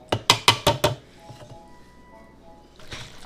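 A spoon clinks against a bowl while Mexican chicken salad is mixed, five quick sharp knocks in a row followed by a few softer taps and quiet scraping.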